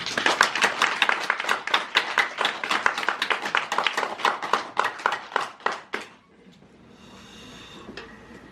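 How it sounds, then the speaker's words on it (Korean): A church congregation claps loudly in rhythmic unison during a Sunday service, about twenty sharp beats in a row, then the clapping stops and the room falls quiet. "우리 하나님께 영광의 박수 올립니다."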